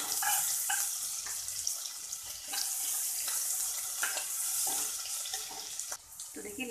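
Coarsely crushed garlic and ginger sizzling in a pan for ragda patties, a continuous bright hissing fry with small crackling bursts.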